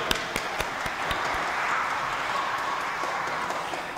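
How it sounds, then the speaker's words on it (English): Congregation at a church service clapping in a round of applause, a steady dense patter of many hands held for several seconds at moderate distance. "why don't we give them a little round of applause"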